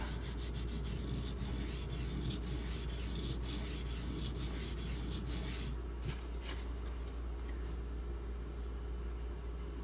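A Benchmade 770 knife blade stroked across a Spyderco ceramic sharpener, a series of light scraping rasps in the first half that thin out to a few faint strokes, close and quiet with no talking.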